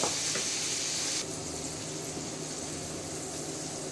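Shrimp with turmeric and salt frying in a pan, a constant soft sizzle, louder for the first second and then settling to a quieter steady frying hiss, no talk.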